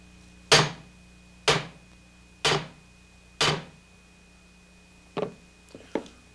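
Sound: hammer striking and driving a pin

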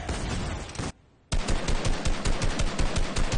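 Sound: gunfire in a video game

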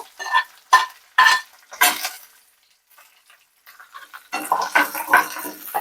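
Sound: onion, green chili and curry leaves frying in pan

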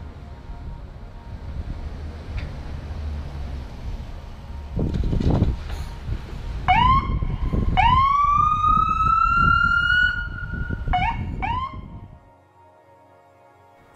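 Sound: ambulance siren

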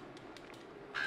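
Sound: crow cawing in the video game Uncharted 2

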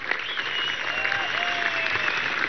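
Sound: applause for a woman at a commemoration

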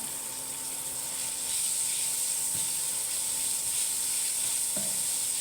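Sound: onion frying in oil with urad dal

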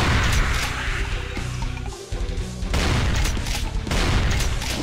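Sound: shotgun blasts in Brutal Final Doom video game

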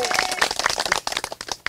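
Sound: audience applause for a prize-winning student

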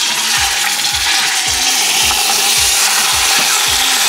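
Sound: beef cheeks searing in a stainless steel pan

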